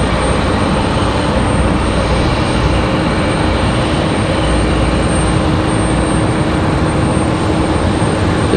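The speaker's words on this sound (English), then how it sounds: "Looks like we got a Delta CRJ on the move." A Delta CRJ regional jet taxiing at Raleigh-Durham airport on a stormy night gives off a loud, constant engine rumble and hiss that stays steady and near throughout, with no talking.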